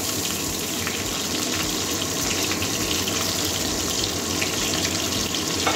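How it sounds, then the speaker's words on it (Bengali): Pointed gourd (potol) frying in a pan with whole cumin, giving a loud, dense, continuous sizzle that holds steady throughout, with no talking. "একটু পটলটা ভেজে নিচ্ছি"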